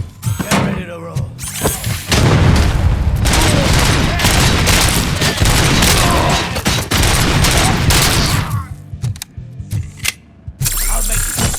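Rapid gunfire bursts in the RoboCop Rogue City video game, loud and sustained with mechanical clatter, fading to scattered shots near the end.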